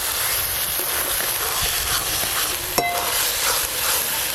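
Lote fish (Bombay duck) frying in a pan gives a steady, loud sizzle, with scraping stirs throughout and a single sharp metallic clink of the utensil against the pan.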